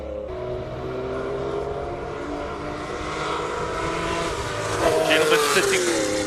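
A Volvo 850 race car engine drones loud at a classic car hillclimb in Cape Town, its pitch rising and swelling toward the end as it accelerates, with crowd voices faintly mixed underneath.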